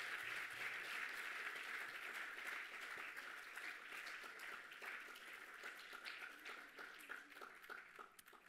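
Applause fills the hall at a national youth award ceremony as a prize is handed over, a continuous dense crackle of many hands clapping, faint and distant throughout.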